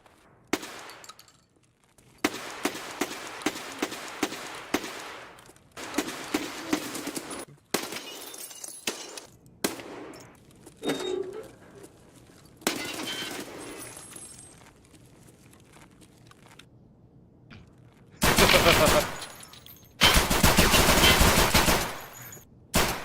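Gunfire in the video game Escape from Tarkov, with loud bursts of automatic fire and single shots in repeated clusters, separated by short quiet gaps, with no voices.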